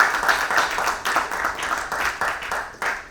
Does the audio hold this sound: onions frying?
no